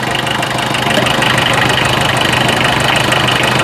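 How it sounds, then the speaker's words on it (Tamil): Vintage Fiat diesel car engine idling at a Chennai expo, a steady loud clattering knock with a continuous low hum holding even throughout, no voices over it. "இது டீசல். ஸோ இது இதுதான் கரெக்டான சவுண்டு."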